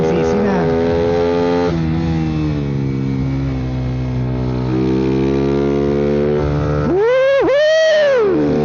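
A 150cc motorcycle engine drones steadily during a ride, loud and close, and its pitch shifts as the rider changes speed. Wind rushes throughout, and near the end a voice whoops over the engine.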